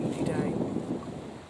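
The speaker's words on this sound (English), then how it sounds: "yes, windy day." Wind on a blustery day in a kitchen garden, a steady broadband rush buffeting the microphone in rolling gusts, with faint muffled talk underneath.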